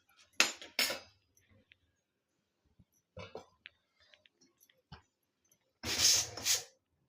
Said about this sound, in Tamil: அடுப்பில் வானலை போட்டாச்சு.